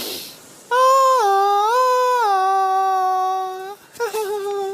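A voice mimics snoring with a long drawn-out nasal, wavering tone, followed by a short choppy sputter at the end. Close and fairly loud, no other talk.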